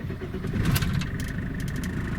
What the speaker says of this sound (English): until we start the engine up